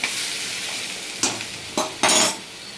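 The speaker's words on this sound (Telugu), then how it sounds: "వేసాను కదా, తిప్పుతున్నాను చూడండి." Cucumber, potato and tomato curry frying in a pan, a steady soft sizzle broken by a few sharp scrapes and clinks of a spoon stirring the pieces.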